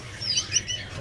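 A young paok (pitta) bird gives a few quick, thin chirps in close succession, fairly faint over a low background hum.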